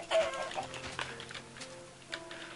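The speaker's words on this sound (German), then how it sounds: "Huhn!" A Minecraft chicken clucks a few times in short bursts over a low background hum, fairly close and moderately loud.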